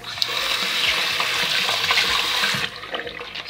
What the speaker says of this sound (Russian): и пошла вода.